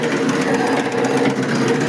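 A chaff cutter machine drones loudly and continuously at close range, chopping fodder: a rough mechanical whir with a steady chopping rattle underneath.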